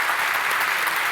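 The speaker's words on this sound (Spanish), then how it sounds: "Les queremos dar un aplauso" A seminar audience at a bank's wealth management event applauds steadily, a dense, even wash of clapping that holds for about a second without gaps.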